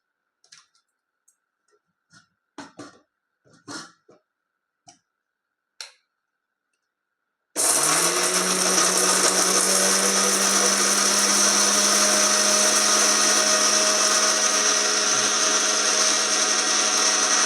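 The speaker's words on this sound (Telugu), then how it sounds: "వీటిని మనం మిక్సీకి పెట్టేసుకున్నాం" An electric mixer grinder starts abruptly after scattered clicks and taps, then runs loud and steady as it grinds curry leaves into a spicy powder, with a constant whirring drone to the end.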